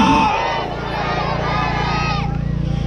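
A church crusade crowd shouts hallelujah together, a loud, dense roar of many voices that swells and holds steady across the whole stretch.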